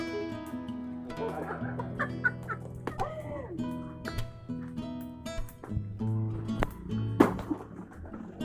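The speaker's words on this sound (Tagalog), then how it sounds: "Manok ay nasa taas." Chickens cluck and squawk close by in a busy, noisy yard, with some background voices and clatter mixed in.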